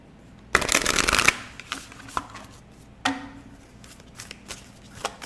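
Tarot cards are shuffled close up, starting with one long riffling burst, then a few shorter taps and flicks as the deck is squared, with no talking.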